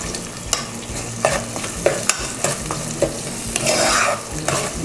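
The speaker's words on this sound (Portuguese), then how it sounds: "Aí é deixar a cebola dar uma murchada" Onion sautés in a pan, sizzling steadily while a utensil scrapes and stirs in irregular strokes close by.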